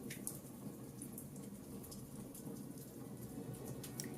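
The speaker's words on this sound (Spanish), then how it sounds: "La lluvia contra las ventanas" Rain beats against windows as a constant wash of drops, with scattered sharper taps on the glass and a low rumbling undertone, steady throughout with no speech.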